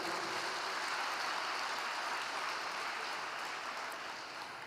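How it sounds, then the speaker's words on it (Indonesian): Audience applause fills the hall at a ceremony presenting university education support to children of TNI soldiers, a dense, steady clapping that holds throughout and tapers slightly at the end. "Boleh tepuk tangan Bapak Ibu semua."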